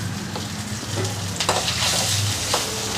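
Curry leaves, dried red chillies and garlic sizzle and crackle steadily in hot oil, with a few sharper spits and brief stirring scrapes over a continuous frying hiss.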